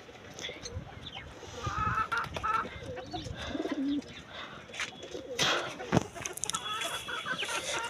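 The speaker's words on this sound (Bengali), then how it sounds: "আমি এখন আমার মুরগি ছেড়ে দিব।" Chickens on a rooftop cluck and murmur among cooing birds, soft and scattered, with some faint movement noises and distant background sound.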